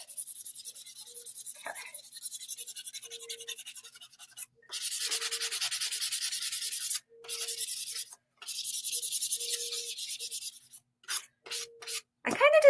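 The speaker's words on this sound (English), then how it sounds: "So I will do the bulk of the sanding, heat shape it, and then do the fine sanding" Foam being sanded by hand, rapid bursts of gritty rubbing strokes in a back-and-forth rhythm, close and fairly loud, with short pauses between passes.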